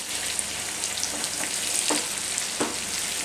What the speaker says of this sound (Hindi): इस तरह से सारे फ्राई कर लेंगे, फ्राई होने शुरू हो गए हमारे और इनको तेज आंच पर ही फ्राई करेंगे।